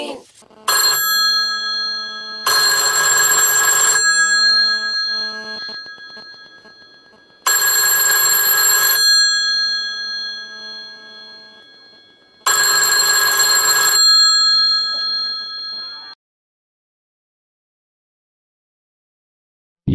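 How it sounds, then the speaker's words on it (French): A red telephone in The Sims 2 rings in three loud bursts about five seconds apart, each a bright bell-like trill with ringing decay, then falls silent. "le téléphone rouge ressonne."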